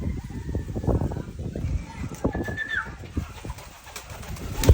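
Free-flying pigeons coo softly amid flapping and rustling, while someone speaking Tagalog comments nearby.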